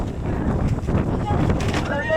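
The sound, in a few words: strong wind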